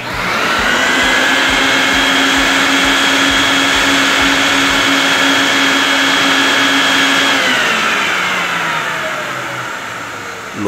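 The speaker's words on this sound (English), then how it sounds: "vacuum all the Dead Sea minerals through the rug" A powerful vacuum roars loudly and steadily beneath a handmade oriental rug, pulling Dead Sea mineral solution through the pile, then its pitch drops as it winds down near the end.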